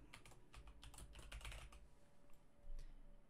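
Password typed on a computer keyboard: quick, soft, close key taps in an irregular rhythm for a few seconds, faint overall.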